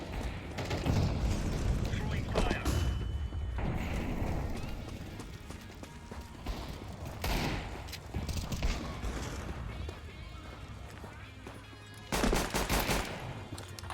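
Rapid bursts of gunfire from a Counter-Strike 2 match, with loud clusters of shots early on and again near the end, and quieter shooting and game noise between them.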